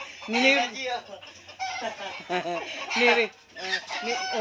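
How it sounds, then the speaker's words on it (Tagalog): Several chickens cluck and squawk in a busy, agitated flock, with overlapping calls rising and falling close by. "Nagkakagulong mga manok ko."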